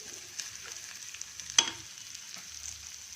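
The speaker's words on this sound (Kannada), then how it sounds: "ಈ ತೊಳೆದಿರೋ ಹೆಸರುಬೇಳೆ, ಗೋಧಿ ನುಚ್ಚನ್ನ ಹುರ್ಕೊಂಬಿಡೋಣ." Washed moong dal and broken wheat roast in hot oil in a pan for sweet and savory wheat huggi, a faint steady sizzle with one sharp stir scrape near the middle and a few softer knocks.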